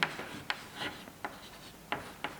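Pen strokes while writing out a chemical reaction equation, a quiet series of short scratchy marks at an irregular pace, close and faint.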